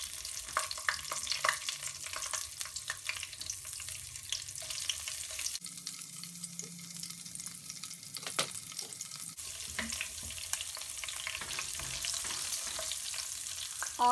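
Whole Kashmiri chillies and chopped green chillies frying in hot oil give a continuous close crackle and sizzle, with occasional stirring scrapes and a brief dip partway through.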